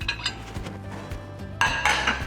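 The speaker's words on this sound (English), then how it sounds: "Firstly, remember to remove all plates and cutleries." Plates and cutlery being taken out of a dishwasher rattle and clink in several close, sharp bursts, with a louder clatter of dishes near the end.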